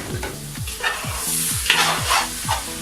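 Carrots, peas, fenugreek and potatoes being stirred in a pan, a steady sizzle broken by regular scraping strokes of the spoon, close and fairly loud, with no talking.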